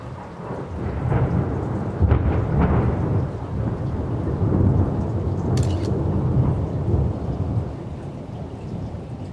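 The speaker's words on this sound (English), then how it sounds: "We've been having some storms around here lately." A thunderstorm with heavy rain pounding steadily on surfaces, low thunder rumbling throughout, loud and continuous with no talking.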